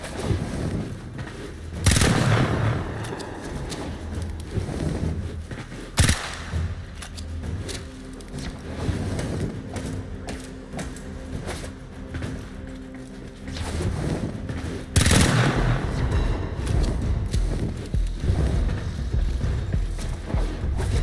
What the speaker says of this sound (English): Shoot the targets to create your path.